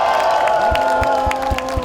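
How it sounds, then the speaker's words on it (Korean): A crowd at an outdoor presidential campaign rally in Changwon cheers and claps to welcome the candidate Kim Moon-soo. Loud, continuous crowd noise with sustained tones runs over a steady, thumping beat of rally music. "큰 박수로 맞이해 주시기 바랍니다"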